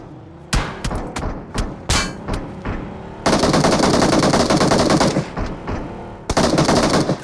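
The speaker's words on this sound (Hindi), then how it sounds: "लेकिन तभी फायरिंग की साउंड आती है।" Gunfire in the mobile battle-royale game BGMI: a handful of separate sharp shots, then a long sustained automatic burst, a short pause, and a second loud burst at close range with no talk.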